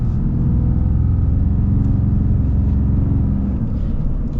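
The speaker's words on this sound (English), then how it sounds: "let's get our full-blown acceleration" A 2021 Ram 2500 AEV Prospector XL heavy-duty pickup accelerates at full throttle, its engine a deep, steady rumble heard from inside the cab, easing off slightly toward the end.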